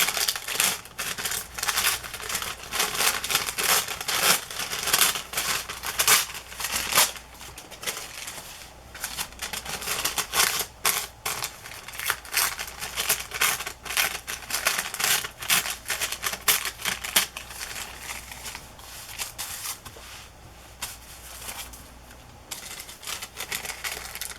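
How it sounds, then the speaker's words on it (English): Scissors snip through a paper flower for a journal page, a long run of quick, close, crisp cuts and papery rustling with no voices. "I'll just cut some of this flower."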